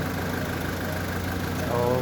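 A 2015 Mitsubishi Lancer engine idles after a top overhaul, running with a smooth, even hum close by while someone talks over it.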